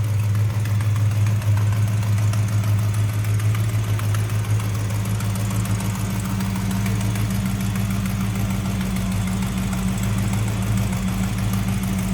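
A 1973 Plymouth Road Runner's 360 V8 with a Street Demon 4-barrel carburetor idles steadily up close, a deep even rumble with a slight knock, loud and continuous with no voices.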